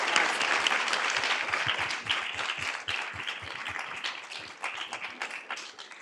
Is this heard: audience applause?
yes